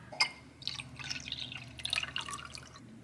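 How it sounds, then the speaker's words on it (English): Water runs into a water bottle being refilled, with close, bubbly gurgling and trickling that begins with a single drip, then rises into a steady, unbroken pour. "I'm gonna go refill my water"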